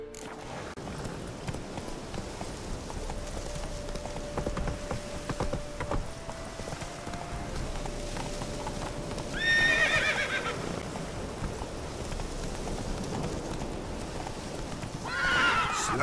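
Roach the horse in The Witcher 3 neighs loudly partway through and again near the end, over a steady ambient wash with faint hoof clip-clops underneath.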